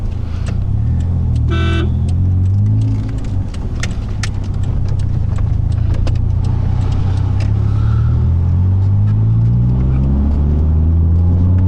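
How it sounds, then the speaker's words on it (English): A Fiat Palio 1.6 engine revs and accelerates steadily up through the gears, a constant loud rumble heard from inside the car. "the way this car zooms, this is why it is more addictive to ride than the turbo"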